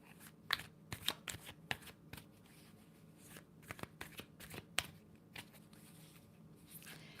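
Tarot cards are shuffled by hand in a quiet room, a faint, irregular run of soft riffles and crisp snaps heard close up with no talking.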